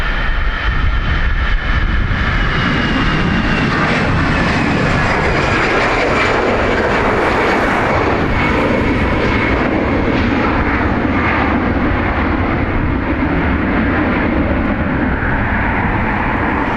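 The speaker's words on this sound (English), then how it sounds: "We got it landing, we'll get it taken off." Airliner taking off at Dublin Airport, a loud, continuous engine roar that holds steady throughout with a broad rumbling wash, heard from fairly close with no talk over it.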